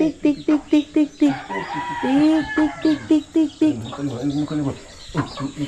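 Chickens cluck in short rapid bursts nearby while a rooster crows, with a voice talking faintly underneath.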